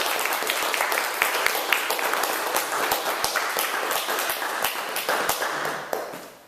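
A literary-series audience applauds at the end of a poetry reading. The clapping is thick and continuous, with sharp individual claps standing out, and it fades slightly near the close.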